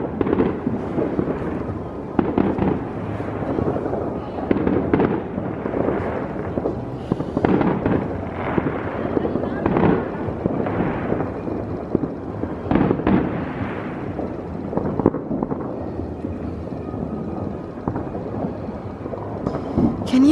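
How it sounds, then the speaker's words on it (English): Fireworks burst continuously outdoors on New Year's Eve in France, a dense, rolling barrage of distant and nearer bangs and crackles with no break for twenty seconds. "can you guys hear all those fireworks going off?"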